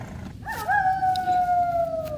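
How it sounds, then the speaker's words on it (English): Two wolves howl together, long wavering tones that rise briefly and then slide slowly downward, heard clearly at moderate distance over a faint background. "I hear other wolves."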